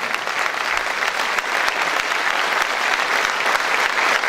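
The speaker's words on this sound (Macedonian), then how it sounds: "Ќе ја замолам за аплауз" Steady, dense applause from an audience at a political campaign gathering, many hands clapping together at an even, fairly loud level throughout.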